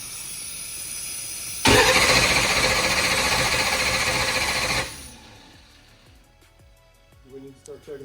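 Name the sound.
ProMod Mustang turbo small-block Ford engine cranking over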